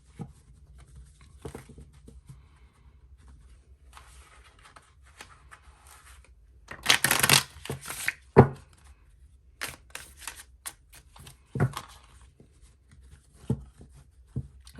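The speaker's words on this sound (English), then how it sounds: "I'll go ahead and shuffle the cards" Lost Hollow tarot cards from Pixel Occult shuffled by hand, with soft scattered card rustles that build into a dense burst of shuffling around the middle, followed by sporadic sharper flicks and taps, close by and without talk.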